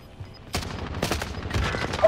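Gunfire in Call of Duty: Modern Warfare: several loud, close bursts of shots crack one after another over a steady rumbling game background, growing busier toward the end.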